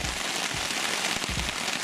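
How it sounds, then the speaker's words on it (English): Heavy rain falls steadily outdoors, a dense broadband hiss with scattered sharper drop impacts throughout, continuous and fairly close, with no voices. "really raining"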